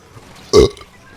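A single loud, close burp, short and guttural, bursting out of near silence during a Splatoon gaming session.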